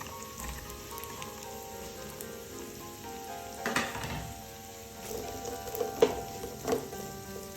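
Onion and curry leaves sautéing in a pan, a soft continuous sizzle and frying hiss with a few louder stirring scrapes and clicks near the end, no talking.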